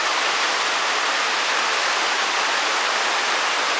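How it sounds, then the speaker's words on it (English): A tall waterfall on the Warrie Circuit walk roars steadily and close, a loud unbroken rushing hiss of falling water with no voices or other sounds. "This waterfall is quite impressive."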